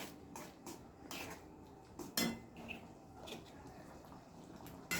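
A spoon scrapes and clinks against a pan while egg tadka is stirred and mixed, producing irregular soft metallic knocks and scrapes at low volume with one sharper clank partway through.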